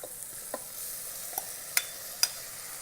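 Shrimp in curry masala cooks inside an Instant Pot, a soft low hiss broken by a few sharp spoon scrapes and clicks against the inner pot, quiet and close.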